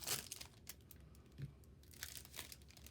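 A Marvel Champions card pack is torn open, giving close, quiet crinkling and ripping bursts of foil wrapper over about three seconds, with no talking.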